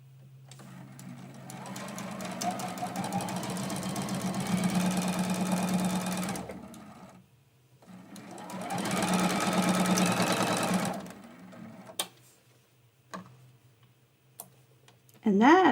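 A sewing machine stitches quilt A-frame pieces in two sustained runs of steady motor whir, each a few seconds long, with a pause between them and faint clicks and handling noises afterward.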